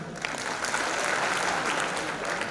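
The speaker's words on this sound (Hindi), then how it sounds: "एक बार जोरदार ताली।" An audience at a Hindi poetry recital in Kanpur breaks into loud, sustained applause, a dense wash of clapping from the crowd throughout.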